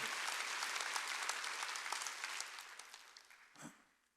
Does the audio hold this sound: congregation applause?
yes